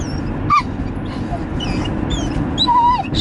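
A puppy whimpers in several short, high whines and yips spread across the moment, close by, over a steady background rumble.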